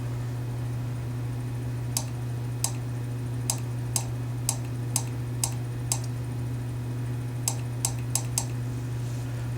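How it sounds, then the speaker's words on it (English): Sharp little clicks from the gas valves inside a Honeywell water heater temperature control valve tick open at irregular intervals over a steady low hum, some spaced apart, others in quick bunches. "That noise is actually the valves inside here opening up."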